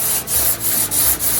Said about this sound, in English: I can lightly block over it with a straight stick